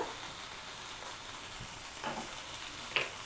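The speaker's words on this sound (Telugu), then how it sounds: "చింతపండు కూడా వేసి ఒక 2-3 నిమిషాలు బాగా ఫ్రై చేసుకోవాలి" Tamarind frying in a pan with mint and coriander makes a soft, continuous sizzle, with a couple of brief stirring scrapes and one sharp utensil tap near the end.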